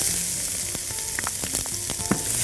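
Onion frying in a hot pan, a bright continuous sizzle with occasional sharp crackles and light clinks, close and fairly loud with no talking.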